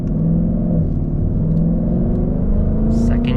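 A Ford Mustang GT with a 10-speed automatic accelerates hard, its engine note rising in a loud, close, throaty roar, with a brief upshift near the end.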